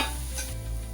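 Onion with chili, ginger and garlic paste sautéing in a pan for a pea karanji filling, a dense close sizzle with a soft scrape, lasting only a moment, with no speech.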